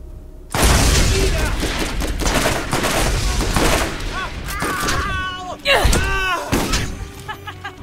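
Grenade blasts and gunfire in the Borderlands shooter game, loud booms and crackling bursts over a busy battle din, with someone talking excitedly throughout.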